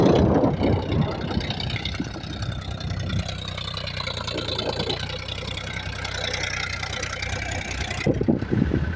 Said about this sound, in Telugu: ఇంకో ట్రాక్టర్ ఏమో మా దాంట్లో దున్నుతుంది